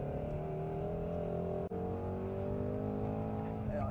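A Ford Mustang Shelby GT350R engine revs high under load, loud and sustained, with one brief dip as it shifts gear before pulling on, heard from close by.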